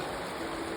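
Water flows down toward the Rio Grande at Taos Pueblo, New Mexico, in a steady, close rush of stream noise. The sound is even and unbroken, with no voices.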